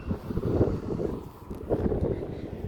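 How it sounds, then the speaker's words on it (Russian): Warm wind gusts blow at an outdoor bus stop near a bridge, a low, uneven rumble that buffets the microphone in swelling waves. "у нас сейчас теплые ветра дуют"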